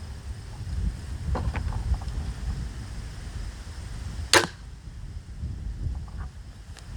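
A 630-grain bolt fires from an Excalibur Axiom recurve crossbow with a single sharp crack, loud and close, cutting through steady outdoor wind noise.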